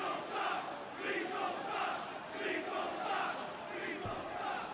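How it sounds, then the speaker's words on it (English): A wrestling crowd at a Ring of Honor Death Before Dishonor event, a dense, sustained roar of many voices swelling in waves that suggest booing, loud and continuous throughout. "It has been rare tonight to hear the crowd boo any of these competitors, but Jay Lethal has drawn their ire."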